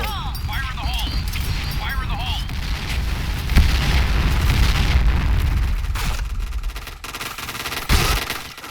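Gunfire in PUBG, heard as bursts of rapid shots and booming impacts over a steady battle din, with a sharp loud shot near the end and a voice talking over it.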